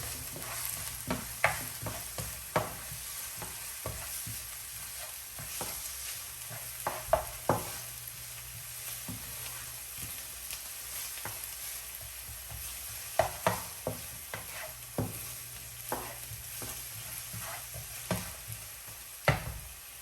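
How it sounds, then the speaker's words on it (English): Rice and garlic sautéing in a pan for Spanish rice, with a steady low sizzle broken by frequent scraping, stirring clicks and knocks of a utensil against the pan, all fairly quiet and without voices. "Let it saute a bit."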